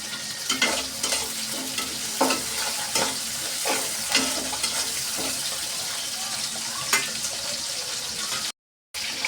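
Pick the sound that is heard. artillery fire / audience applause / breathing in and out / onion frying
onion frying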